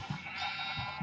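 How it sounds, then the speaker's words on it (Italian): Sheep bleating in the game Minecraft, a short nasal bleat that fades in and out, moderately loud over a steady background hum, with no talk. "Pecore!"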